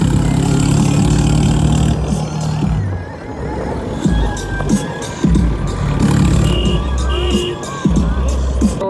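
A tractor engine idles nearby at a gurdwara near Kiratpur Sahib during Baisakhi, with a deep, chugging rumble that rises and falls a little without ever stopping.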